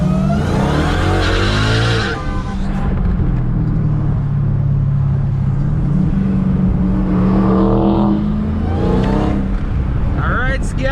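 A Dodge Charger SRT Hellcat driving and swinging through a U-turn, with a loud low engine drone that rises and falls with throttle throughout, heard from inside the car while a driver talks over it.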